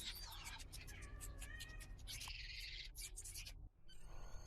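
A pet cat gives a quick run of chittering, chirping calls, rapid and bird-like, close by, with a brief drop to quiet near the end before more faint sound.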